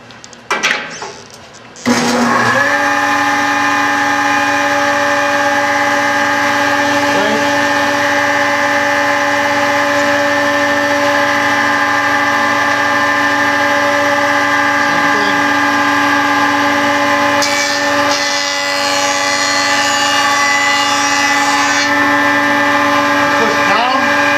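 A wood planer in a woodworking club shop starts up after a short clunk and keeps a loud, steady humming whine with strong tonal overtones, nearly unchanged for the rest of the stretch.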